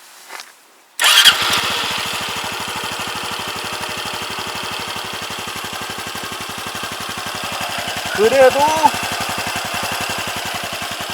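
After a brief quiet moment, a Honda Super Cub motorcycle engine fires up and settles into a steady, close idle in neutral. A voice speaks briefly near the end.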